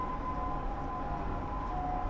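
Ambulance siren, a raised-roof Nissan Caravan, passing on a highway; a steady wailing tone holds loudly throughout over continuous traffic rumble.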